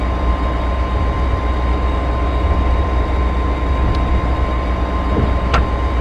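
A MARC Penn Line commuter train runs express from Washington DC toward Baltimore, heard from onboard as a steady, loud rolling rumble with a constant hum and a couple of faint brief squeaks late on.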